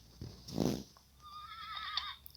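A single horse whinnies loudly in a video game, a rising then shaky neigh lasting a couple of seconds, close and clear with faint background noise.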